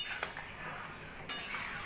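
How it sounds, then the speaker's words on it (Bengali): Grated ginger is stirred into simmering dal with a utensil, giving light scraping and a few clinks against the pot, with a sharper clink about two thirds through. "আদাটা ভালো করে ডালের সঙ্গে মিশিয়ে নেব।"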